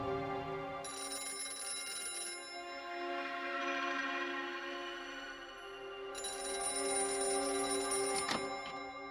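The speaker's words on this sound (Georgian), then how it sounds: "ბრძანებელო, ტელეფონი გირეკავთ" A telephone rings with a steady, repeating electronic ring tone, fairly faint and sustained across the whole stretch, heard alone without any talking.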